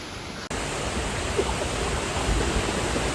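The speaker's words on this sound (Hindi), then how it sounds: "वाटरफॉल। यहाँ से ये शुरू हो रही है और नीचे तक जा रही है" Rushing water at a hidden waterfall in Maldevta, Dehradun, Uttarakhand: a steady, loud broadband roar that starts after a brief cut and continues unbroken, with no voices.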